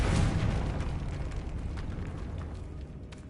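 Confringo blasting spell detonating in a Harry Potter game tomb, a heavy low boom bursting at once and decaying into a long rolling rumble with faint crackles, loud and without speech.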